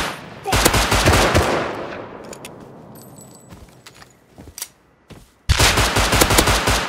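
Video game gunfire in fast automatic bursts, a loud volley at the start, scattered lighter shots and clicks in between, then another heavy burst to finish.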